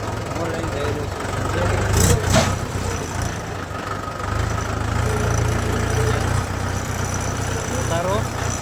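A tractor engine idles at close range, giving a steady low, throbbing rumble that holds for the whole stretch, with a brief louder burst partway through and faint voices in the background.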